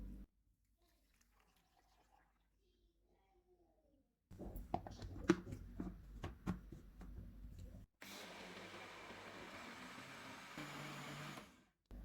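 A jug blender runs loud and steady for several seconds, blending milk, bananas, strawberries, sugar and ice cubes into a milkshake, with a brief stop and restart partway through.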